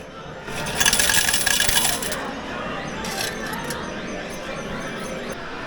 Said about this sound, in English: Every arcade has a coin exchanger, so you can get your 100 yen coins